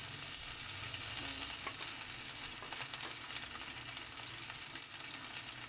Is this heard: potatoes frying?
yes